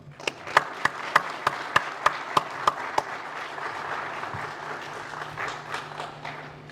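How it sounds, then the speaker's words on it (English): An audience at a closing ceremony for an anti-drug art and writing contest claps in a quick, even beat for a few seconds, then breaks into a broad, steady wash of applause over a low hum. "Actually, everybody should applaud you for that."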